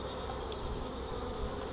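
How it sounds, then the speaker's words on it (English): Honeybees buzz steadily around an open top bar hive during an inspection, a dense continuous hum of many insects close by, with no talking. "That bee will get out of the way."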